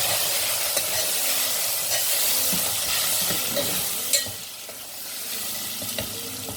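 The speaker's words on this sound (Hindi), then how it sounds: "मसालों को थोड़ी देर के लिए भून लेते हैं।" Turmeric, red chili and coriander powder frying in a pan, a continuous loud sizzle with occasional spoon stirs and scrapes, close with no speech.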